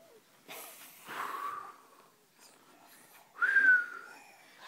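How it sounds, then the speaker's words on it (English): A small child whistles at a snack table, with two breathy, wavering whistle attempts separated by soft breathing sounds, close and fairly quiet. "Are you whistling?"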